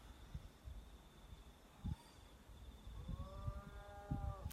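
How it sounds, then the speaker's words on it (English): A cow moos once, faint and distant, toward the end, over a quiet outdoor background with soft wind and a thin high hum. "cows mooing. Really country scene here."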